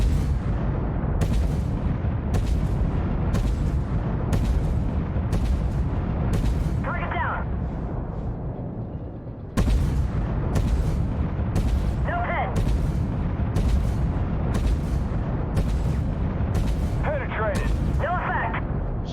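Tank cannon firing in the Armored Warfare video game, a steady series of loud booming shots at regular intervals with a slow rate of fire, over a continuous engine rumble and brief beeping tones.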